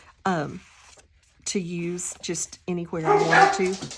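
A dog barks and yips in short bursts indoors on a hardwood floor, close by, mixed with a person talking.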